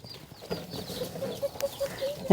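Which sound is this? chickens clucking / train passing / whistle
chickens clucking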